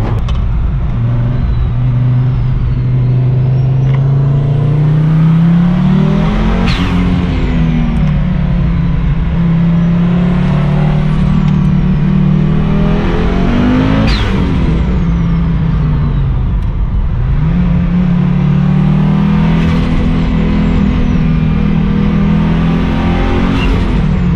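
A green Audi Sport quattro tuned to 600 hp cruises along, its engine droning steadily close up with several rising and falling swells as it shifts and revs through the last curves of a drive home.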